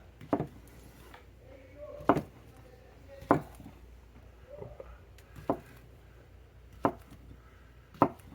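A Bowie knife slicing through smoked sausage on a cutting board, six distinct knocks of the blade hitting the board at an unhurried, fairly even pace, close and moderately loud.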